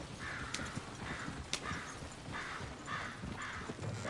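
Horse hooves clip-clopping in a steady, moderately close rhythm, with a few sharp clacks over a background of outdoor noise and no voices.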